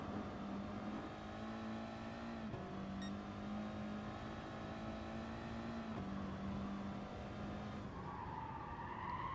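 A race car engine in Gran Turismo Sport, held in third gear, drones at high revs with a steady, buzzing whine that rises and dips slightly. It runs continuously, with faint tire noise and no talk.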